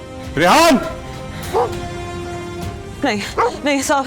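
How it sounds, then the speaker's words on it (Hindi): Dogs bark in a few short yelping bursts, near and fairly loud, with people's voices talking between and over them. "ये कुत्ते इतना क्यों भौंक रहे हैं?"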